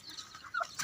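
Hens and chicks in a yard give a few faint, brief clucks and chirps, quiet and close, with no talk.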